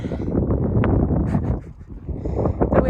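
Strong gusts of wind buffet outdoors, a loud continuous low rumble that dips briefly midway before surging back.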